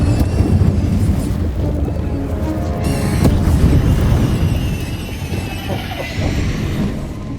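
Confringo explosion spells in Hogwarts Legacy land as loud, booming blasts amid dense rumbling game noise, with a sharp burst near the middle and continuous crackling effects throughout.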